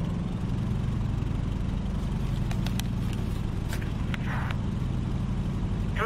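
A Boeing Stearman PT-17 biplane engine in MS Flight runs at a steady, even idle with a continuous mid-low drone, joined by a few brief clicks and taps.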